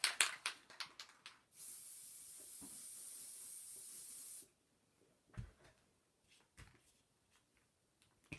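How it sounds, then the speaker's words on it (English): A steady, close spray paint hiss lasts about three seconds, framed by a few clicks and light handling sounds, sprayed onto the bottom of a 14oz wine tumbler. "I'm just going to spray the bottom part"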